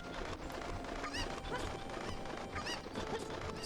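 Cuccos in Zelda: Ocarina of Time around Kakariko Village cluck and squawk repeatedly in quick, bright bursts over a steady busy game background, loud and continuous with no voices.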